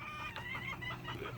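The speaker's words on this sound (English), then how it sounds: "These chickens can easily jump over this, fly over this fence." Chickens cluck close by in a backyard pen beside a five-foot fence, giving short, broken calls over steady low rumble with no talking.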